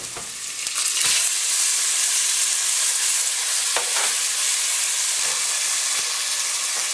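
Garlic and drained tomatoes sauté in olive oil, a loud, steady sizzle and hiss close up, with a few soft stirring knocks and no talk.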